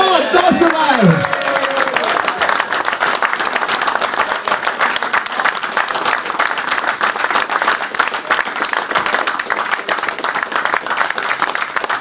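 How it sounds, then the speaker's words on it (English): Audience applause at a village plaque unveiling, sustained dense clapping from a crowd lasting the whole stretch, with a brief voice heard at the start over the claps. "give him a massive round of applause"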